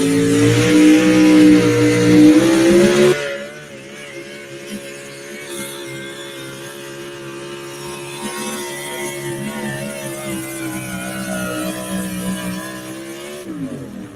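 A pulling truck on 33-inch DOT tires roars loudly at full rev, then settles into a sustained, slightly wavering engine drone that swells again near the end.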